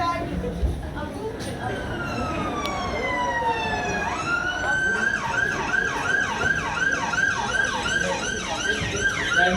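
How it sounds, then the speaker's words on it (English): An ambulance siren wails close and loud, starting as a rising tone and then switching into a fast repeating up-and-down yelp, with road noise underneath. "The ambulance is here."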